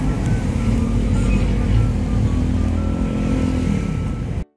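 A steady, loud engine rumble surrounds a rider inside a jeepney on a rainy day of commuting in traffic, with road noise and passing vehicles blending together until the sound cuts off abruptly.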